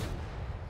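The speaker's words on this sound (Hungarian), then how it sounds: "Pillanatok alatt hallatszódik a lövés, és már ott a lőszer." A CS-52 LIS tank cannon firing in World of Tanks Console, a brief, dense, booming blast with low-end weight filling the short moment at moderate loudness.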